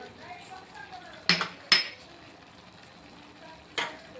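A spoon scrapes and clinks against a pan while stirring a vegetable curry seasoned with chilli and turmeric, giving three sharp metallic knocks over faint quiet background.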